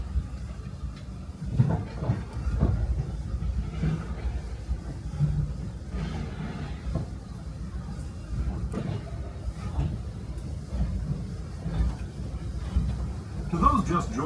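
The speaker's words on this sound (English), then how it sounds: "Welcome aboard the Disneyland Railroad." The Disneyland Railroad train rolls along its track in Disneyland Park, California, giving a low, continuous rumble heard from inside a car. Scattered clunks and rattles sound at a moderate, steady level throughout.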